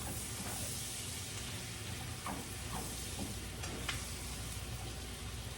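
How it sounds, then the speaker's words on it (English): Onions and celery sizzle in a pot for chicken pot pie while being stirred, giving a steady close frying hiss with a few soft scrapes of the spoon. "Let me stir my onions and celery around over here a little bit."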